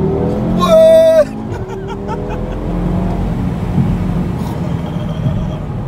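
An Audi TT RS accelerates hard, its engine note climbing sharply through a loud rev before cutting off and settling into a lower, steadier drone as it keeps driving. Faint voices can be heard.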